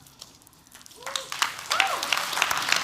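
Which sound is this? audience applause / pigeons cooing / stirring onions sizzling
audience applause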